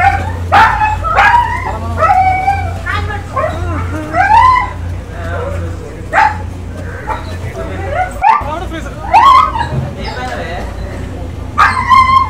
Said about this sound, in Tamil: நாய் வந்துட்டு தன்னுடைய உரிமையாளரை பார்த்த உடனே ஆனந்தத்துல துள்ளி குதிச்சிருக்கிற வீடியோவை நீங்களே பாருங்க